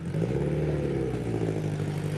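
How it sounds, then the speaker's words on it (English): A Class 10 off-road race car engine runs steadily at the finish line of the NORRA Baja rally from La Paz to San José del Cabo, a loud, continuous mid-pitched drone with no break. "I have to say I love the sound of that Class 10 car."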